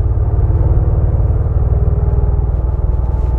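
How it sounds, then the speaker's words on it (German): A Mercedes G500 4x4² from 2016 towing a trailer, driving at speed with a steady, loud, low engine rumble and road noise throughout, no voices. "Ah, der fährt ja wirklich entspannt, der Wagen."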